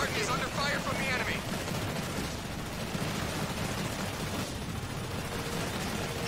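Continuous rattling bursts of gunfire from enemy vehicles in the Halo Wars 2 real-time strategy game, a dense, steady barrage with battle noise throughout and no voices.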